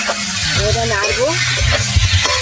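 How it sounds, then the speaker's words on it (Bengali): Fried potato and cauliflower stirred with turmeric in a pan give a close, steady sizzle with scraping and stirring noises, while a voice briefly sounds over it. "এবার নাড়বো"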